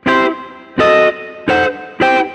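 A blues chord with a one-diminished substitution, played as four sharp, evenly spaced strums on a guitar with a distorted, effects-laden tone, each chord ringing briefly before cutting off.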